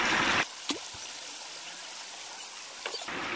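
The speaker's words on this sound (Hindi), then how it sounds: "पानी का बहाव बहुत तेज है।" Fast-flowing stream water at a picnic spot in Karlan, Abbottabad rushes in a steady, moderate wash, with a few sharp splashes and handling noises close by.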